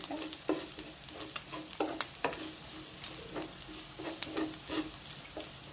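Garlic sautés in rendered pork fat from ground meat, a steady soft sizzle punctuated by rhythmic spatula scrapes and taps against the pan, close and fairly quiet.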